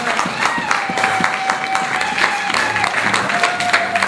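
A church congregation applauds in a steady burst of clapping and crowd noise, while a voice speaks over the clapping.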